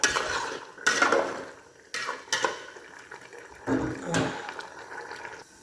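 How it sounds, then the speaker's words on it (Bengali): Rice poured into a pot of boiling water, with bursts of pouring and splashing, clinks of the pot and a bubbling rush, recurring in separate pulses at close range. "এখন জলকে ঢেলে দেব চাল ঢেলে দিলাম"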